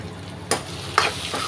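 Spices and coriander powder being stirred in a frying pan, with a few distinct scraping strokes over a soft background sizzle, up close and without voices.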